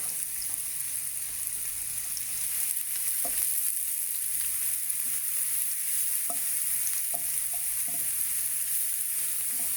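Onions fry in a pan for seafood pasta, giving a steady close sizzle with scattered scrapes and taps from stirring throughout, and no one speaking.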